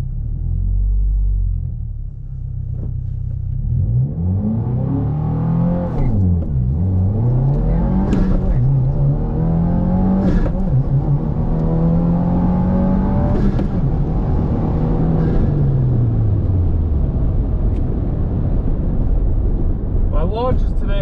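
A 2022 Subaru WRX running E30 fuel launches hard down a drag strip, its engine climbing and dropping through loud revving gear pulls with a steady rumble for about twenty seconds, with no talking over it.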